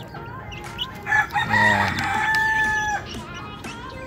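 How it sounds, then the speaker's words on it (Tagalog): Chicks and chickens cluck and crow in a short burst of calls, fairly close, over a farmyard background, with a brief spoken word. "Ayan yung aking mga alagang sisiu. Malalaki na sila."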